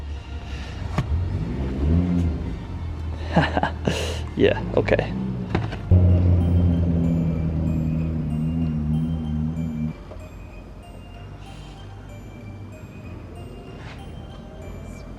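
A BMW E36 engine with an M50/M52 head, running after a head gasket swap, cranks and catches, then settles into a rumbling idle that drops in level partway through. Someone talks briefly over the start.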